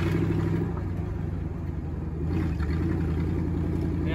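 A Jeep CJ5 engine fitted with a Quadrajet carburetor rumbles steadily at a low idle, close by, and fails to rev up cleanly. It dips briefly midway, then returns to the same uneven drone.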